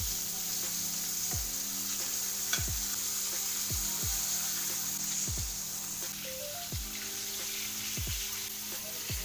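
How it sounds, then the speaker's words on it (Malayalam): Steady loud sizzling of chicken frying in hot oil, with several sharp clanks of a utensil against the pan at regular intervals. "എണ്ണ നല്ല തിളച്ചിട്ടുണ്ട്, അതിലേക്ക് ഇട്ട് കൊടുക്കാം."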